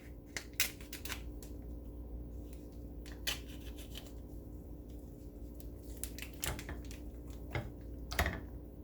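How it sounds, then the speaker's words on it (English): A ground turkey package being cut open, with quiet crisp snips and crinkly plastic clicks in a sparse irregular series over a low steady background hum. "Ground turkey, careful as you cut open."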